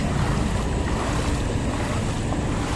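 Floodwater rushing through flooded streets in Imus, Cavite, a continuous broadband wash of flowing water mixed with wind buffeting the microphone, loud and steady with no speech.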